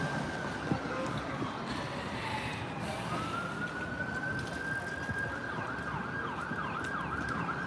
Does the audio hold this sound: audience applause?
no